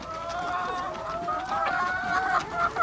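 Egg-laying chickens cluck steadily in a busy chorus while pecking feed from a feeder bucket, close and fairly loud, with overlapping calls.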